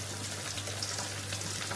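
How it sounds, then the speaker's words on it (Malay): Meat sizzles and crackles in a hot pan, a constant hissing fry with a low steady hum underneath and no one speaking. "Goreng daging ya"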